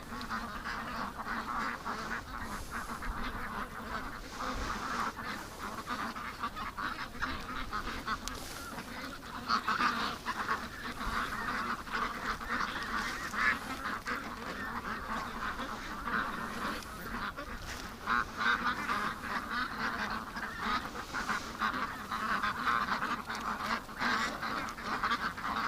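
A flock of spooked ducks quacking and honking nonstop, a dense, raucous chorus that fills the scene at a steady level with no pauses.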